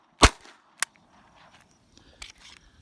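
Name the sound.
Winchester Wildcat 22LR rifle shot into dirt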